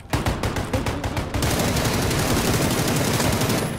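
PUBG gunfire: a rapid string of sharp automatic shots for about a second, then sustained loud firing and battle noise continuing throughout, close and dominant.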